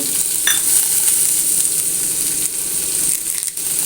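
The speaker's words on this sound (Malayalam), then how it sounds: "കുറച്ച് കറിവേപ്പില നല്ലോണം വഴറ്റി കൊടുക്കുക" Small onion and tomato sauté with curry leaves in a hot pan: a loud, close sizzle that holds steady throughout, broken by a few scraping stirs of the spatula.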